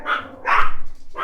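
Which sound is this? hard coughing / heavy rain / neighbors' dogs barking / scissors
neighbors' dogs barking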